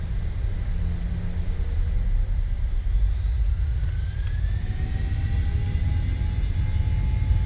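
Simulated P-8 patrol aircraft engines during a takeoff roll in Microsoft Flight Simulator 2020, a loud steady jet roar with rising whine tones as the plane gains speed.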